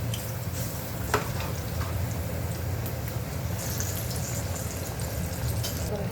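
Kothimbir vadi, coriander fritters, frying in a pan, giving a steady loud sizzle that fills the whole stretch, with a few faint clinks as the pieces are turned.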